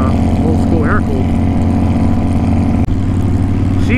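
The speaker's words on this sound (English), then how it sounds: "That might be a Volkswagen engine, an old school air cooled." Old-school air-cooled Volkswagen engine powering a custom trike with a wheelie bar, a steady loud low drone running continuously close by, with voices talking over it.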